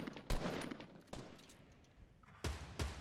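Sharp gunshots in a video game shooter ring out as a few separate cracks, some spaced about a second apart and a quick pair near the end, heard fairly faint over a quiet background.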